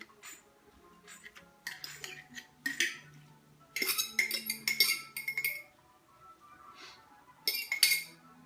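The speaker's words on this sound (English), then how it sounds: "I just put the sauerkraut into this baking dish." Strained sauerkraut being scooped into a glass baking dish, with scattered clinks and scrapes of a utensil against glass in irregular bursts, close and fairly quiet.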